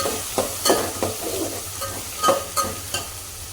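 Peas, chickpeas, pigeon peas and black horse gram roasting in hot oil, stirred with repeated scraping strokes of a spoon over a constant close sizzle, several louder clatters standing out.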